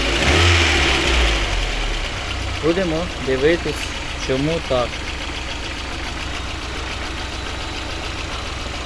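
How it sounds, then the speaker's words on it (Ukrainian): A VAZ 21099 car engine runs unevenly at idle, misfiring, its rough rhythm steady throughout, with someone speaking briefly over it partway through. "Ось так працює наш двигун."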